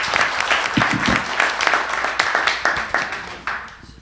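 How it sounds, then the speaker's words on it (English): A summit audience gives a panel a steady round of applause, dense clapping from a crowd that stays loud throughout and fades slightly at the end. "Let's give a round of applause to our panel."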